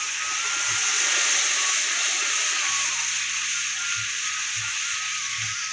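A spice paste of coriander, dried red chili, green chili and ginger is poured into hot oil in a pan for a tilapia fish curry, bursting into a loud continuous sizzle with a few soft low thumps of stirring.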